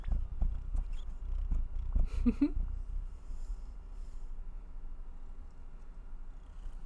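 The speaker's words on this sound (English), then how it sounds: "We've got purrs. You want to purr into the microphone?" A cat purrs close to the microphone in a low, steady rumble, with a few soft rustles and thumps around it.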